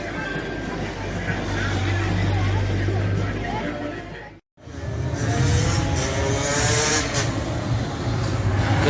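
Motorbikes at a bike meeting at Barry Island: a steady, fairly loud engine rumble and revving with crowd babble, a brief cut partway through, then the engine drone resumes under distant voices.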